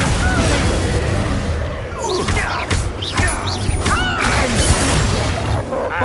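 Blasting Confringo spell effects in Hogwarts Legacy combat: a dense, loud wash of crashing impacts, whooshes and scattered pops against a fight with poachers, continuous and close with no clear pauses.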